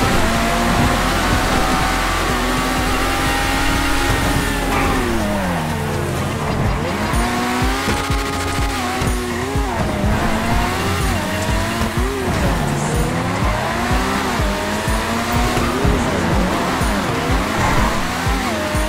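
A race car engine in a racing video game revs and whines continuously, its pitch climbing and falling through gear changes, with tire squeal and skids mixed in, loud and close throughout.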